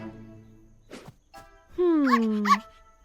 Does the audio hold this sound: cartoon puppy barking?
yes